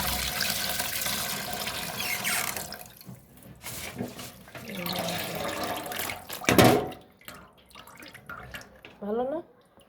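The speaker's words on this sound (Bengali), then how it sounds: "আমি এখন মাছগুলো ধুইতেছি," Freshly cut rohu fish being washed under a running tap, water splashing and gurgling into a sink with clattering handling noises, a loud splash midway and trickling drips toward the end.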